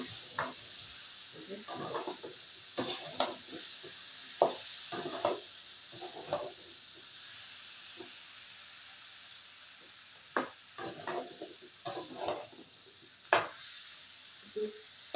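Spices and vegetables sauté in a pan, with a soft, steady sizzle broken by irregular scraping strokes of a stirring utensil. No one speaks.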